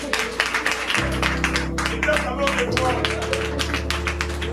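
An audience at a Passover Seder claps for a newly engaged person, a dense run of applause under steady background music.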